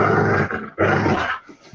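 Dogs named Randy and Odin growl at close range while playing tug of war, two loud rumbling bursts split by a brief pause.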